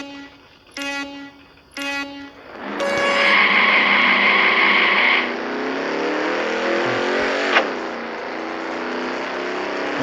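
A racing car in a Drag Racing Streets game revs in two short bursts, then launches into a loud, sustained engine howl that climbs through the gears, with a sharp shift near the end before settling into a steady drone.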